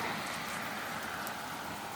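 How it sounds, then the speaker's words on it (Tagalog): Steady rain on a morning after a heavy downpour that is easing, a dense even hiss with a constant patter and no distinct drops or voices. "Kanina po, napakalakas ng ulan, pero medyo humihina na po."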